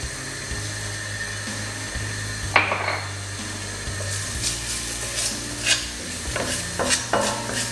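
Ingredients for a Thai-style coconut cod sauce stirred in a hot pan, a steady close sizzle with scraping utensil strokes and clinks throughout, no voices.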